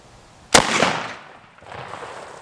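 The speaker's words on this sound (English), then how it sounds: "We're shooting 147 grain, full metal jacket, steel cores." A single loud rifle shot of 147-grain full-metal-jacket steel-core ammunition, fired at a Kevlar helmet, cracks sharply up close and echoes away outdoors, with a softer rustle afterward.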